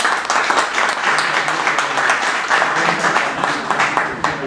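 Applause for a companion at a Madrid honoris causa doctorate tribute, a dense, loud round of hand clapping from the audience sustained throughout, with faint voices underneath.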